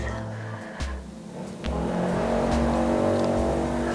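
Outside a home Pilates workout, a motorcycle passes by with a rising engine drone that builds and holds near the end. A low steady hum runs underneath, and an instructor's voice can be heard faintly.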